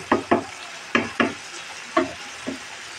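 Snake gourd and lentil bhaji fries in a pan while a spatula scrapes and stirs it in about half a dozen short, distinct strokes over a faint steady sizzle, with no voices.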